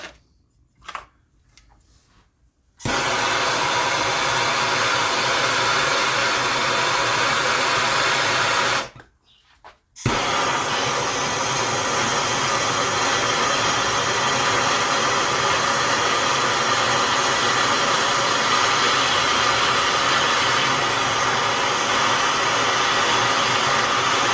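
Heat gun blowing a steady, loud whooshing roar onto a 225 Slant 6 exhaust manifold from a 1974 Dodge D100, running continuously with one brief cutoff partway through and no talking.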